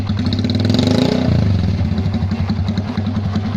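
A TVS XL100 moped with a straight-pipe, slash-cut drag exhaust revs loudly up close, a deep throbbing engine note rising briefly then settling into a rapid pulsing idle.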